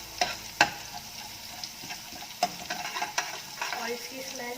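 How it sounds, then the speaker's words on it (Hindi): Potatoes frying in a pan with onions turning light golden, close-up sizzling with a few sharp stirring clacks at the start and scattered utensil taps, no talking. "अभी लाइट गोल्डन होने लगी तो उस वक्त आप इसमें आलू डाल दें।"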